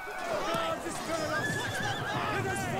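Horses of horse archers neighing and whinnying amid a Total War: Rome 2 video game battle, several overlapping calls with clip-clop hooves over dense, steady battle noise.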